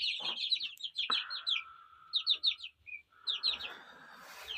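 Young chickens in a coop at night chirp in rapid, high trills in repeated bursts, close by. One longer, lower call sits between them.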